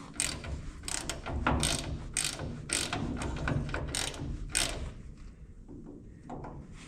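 A ratchet works loose a heavy nut on an Oliver 64 grain drill transmission, with steady rapid clicking strokes repeated in quick bursts, close up, fading to quieter clicks near the end.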